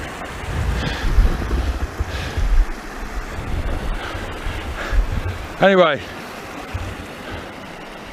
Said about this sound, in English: you need to come and try the quicker waters in this river